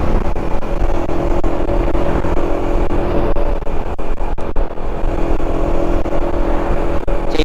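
Steady engine drone from a motorcycle being ridden on a long highway trip, loud and continuous with wind rumble and road noise throughout, no talking.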